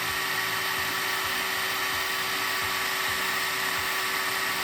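A drill spins a mixer through tabletop epoxy resin, giving a steady, close motor whine that runs unbroken with faint churning underneath.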